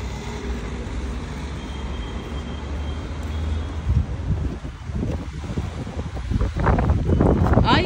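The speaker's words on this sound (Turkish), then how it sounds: "Ay çok rüzgar var kız." Strong wind buffeting an outdoor microphone in a steady low roar, joined later by rustling and handling noise.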